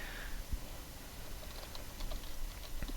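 Soft, sparse keyboard clicks from typing on a computer, faint and close in a quiet room with low background hiss.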